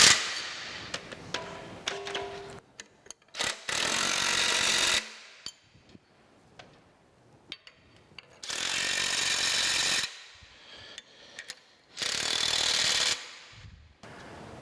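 A socket wrench tightens the countershaft bolts on a metal planer in a workshop: bursts of dense, rapid ratcheting alternate with clicks, knocks and short quiet gaps, close and fairly loud.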